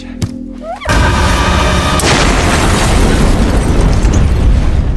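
Balloons bursting in a film scene: after a brief quiet, a loud pop opens a sustained roaring blast, with a second sharp burst about a second later and dense noise continuing to the end, no talk.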